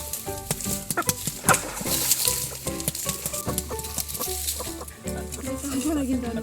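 Freshly bathed chickens, tied up outdoors to dry in a field, clucking in quick, scattered bursts over sizzling, crackly background noise, with a voice audible at times.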